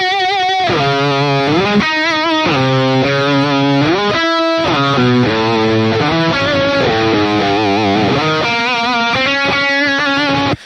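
Distorted lead electric guitar played dry with no phaser, reverb or delay, a continuous loud melodic line of sustained and shifting notes that stops abruptly at the end.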